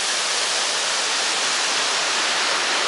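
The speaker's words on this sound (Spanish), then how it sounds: "Esto es una hermosura de cascada en medio de las casas." A waterfall tumbling down between houses in the Siloé neighbourhood, a steady broadband roar of falling water with no pauses and no voices, loud and close.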